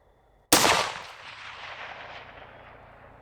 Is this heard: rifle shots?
yes